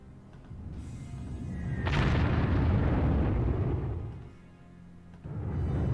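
Heavy rumbling explosions from a Stuka dive bomber striking a tank in the strategy game Panzer Corps, a loud sustained boom swelling then easing, followed by another blast near the end.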